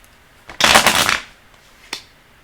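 Tarot cards get one quick, close riffle shuffle lasting about half a second, with a light tap before it and a single crisp snap afterward in a quiet room.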